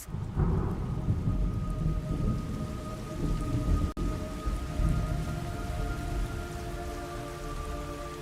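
Heavy rain pours steadily in the video game Metal Gear Solid Delta: Snake Eater, a dense close downpour under low rolling thunder, with a sharp thunder crack near the middle.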